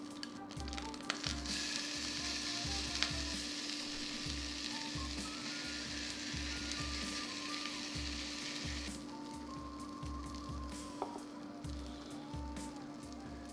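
A quinoa and broccoli veggie burger patty fries in oil inside a ring mold in a pan, giving a continuous faint crackling sizzle with a low rhythmic rumble underneath and no voices.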